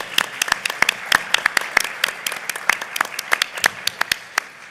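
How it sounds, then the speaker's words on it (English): Audience applause at an academic panel on prison education, a dense run of overlapping claps spread evenly across the whole stretch, moderately loud and steady with no voices standing out. "a round of applause"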